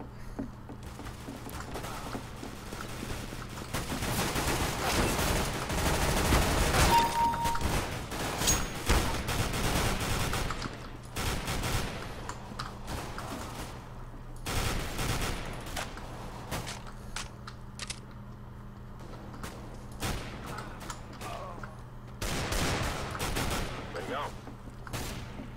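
Gunfire in the video game Arms Race comes in scattered bursts of sharp shots and rapid volleys, some loud and near, others softer, with gaps between, while a player talks intermittently over the action.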